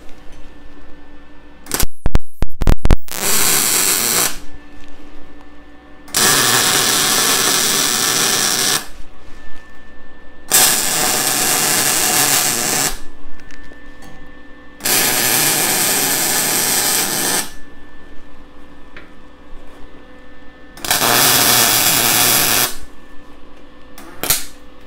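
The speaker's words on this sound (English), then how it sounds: "I'm going to weld one line at each spot just to get it to weld it together." Steel horseshoes being welded together for a coat rack: after a few sharp crackling sparks, five separate loud, steady buzzing arc welds of a few seconds each are heard up close, split by short quiet gaps.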